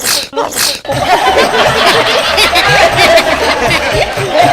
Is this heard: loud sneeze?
yes